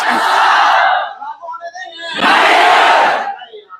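Crowd of students protesting against normalization, two loud surges of massed shouting close by, split by a brief lull with scattered voices.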